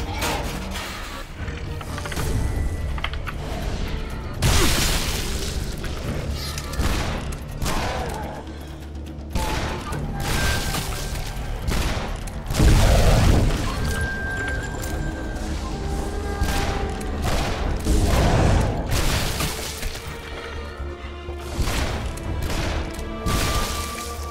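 Enemies bursting apart under gunfire in the first-person shooter Shadow Warrior: repeated loud crashing blasts and shots in a dense, busy mix of combat noise, with a voice talking now and then.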